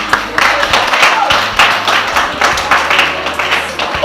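An audience at an HIV/AIDS status awareness campaign at a psychiatric nursing training college claps in a loose, fairly loud patter of overlapping hand claps that runs throughout, with some voices mixed in.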